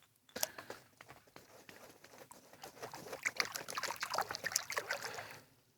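Water from a hand pump gushes and splashes unevenly, starting abruptly and building louder toward the end, with faint knocks of the pump handle mixed in and no talking.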